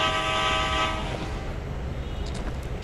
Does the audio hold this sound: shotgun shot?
no